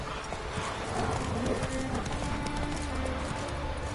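Rapid rhythmic hoofbeats of the horse Roach galloping in The Witcher 3, a continuous clip-clop at close range over a dense game soundscape, with no talking.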